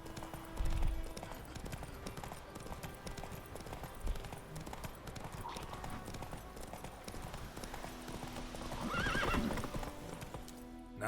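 A horse's hooves clip-clop at a gallop in The Witcher 3, a rapid rhythmic pounding over game ambience, with a whinny and a voice briefly heard, the beat swelling louder near the end.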